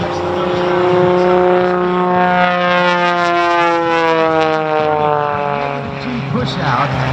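A loud propeller aerobatic plane flies air show maneuvers such as a flat spin during an Owensboro sunset show, its engine a steady drone with harmonics that rise and fall as the pitch shifts throughout.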